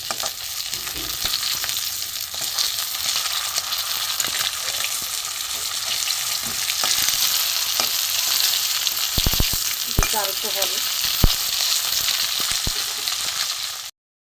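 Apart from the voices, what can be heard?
frying Ganges river fish in oil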